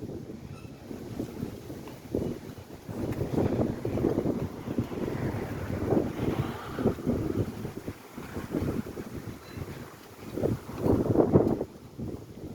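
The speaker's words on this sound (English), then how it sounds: "Getting a little windy out here too." Steady wind buffets the microphone in rumbling gusts on a city bike lane on Columbus Avenue, swelling and easing throughout, with a louder rush near the end.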